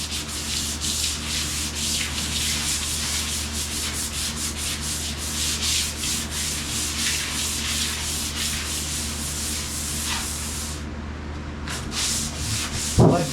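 Hand sanding old, thick, gritty paint on a car body produces rapid, rhythmic rasping strokes, close and steady, that stop near the end before a short handling noise.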